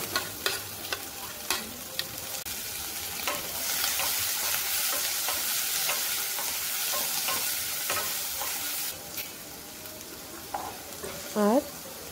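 Carrot, green chili and capsicum frying in a pan, with a continuous sizzle that swells in the middle, punctuated by spatula clicks and scrapes, and a brief faint voice-like sound near the end.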